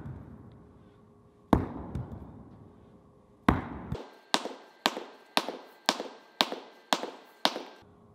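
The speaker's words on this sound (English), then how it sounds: "start with some slams into the ground" Repeated slams of a throwing implement into the ground and a mat during throws practice: loud, close impacts, two isolated hits followed by a steady run of evenly spaced thuds.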